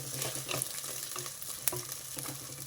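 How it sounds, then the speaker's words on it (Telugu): Potatoes sizzle in a pan for a greens pulao, a soft steady frying hiss broken by occasional scrapes of a stirring spoon, fairly quiet and with no voices. "ఈ ఆలు కొంచెం మెత్తబడాలి. ఆలు కూడా కొంచెం వేగింది."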